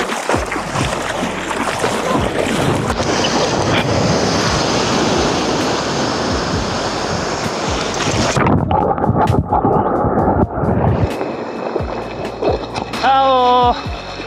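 Ocean waves breaking on an empty beach, a continuous loud wash of surf with wind buffeting the microphone, close by, as family members talk over it before the sound drops away.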